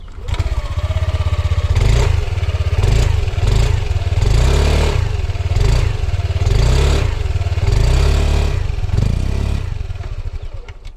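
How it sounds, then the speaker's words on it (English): A Yamaha AeroX 155 scooter engine runs loudly and close by, its deep, bassy exhaust throbbing with repeated revs and pulses throughout. "we'll have to fire up the scooter"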